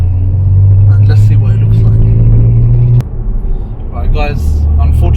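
Vauxhall Insignia VXR (Opel Insignia OPC Supersport) with a Stage 1 tune accelerating onto a motorway, a loud, close engine drone and road rumble that shifts pitch partway through, with someone talking over it.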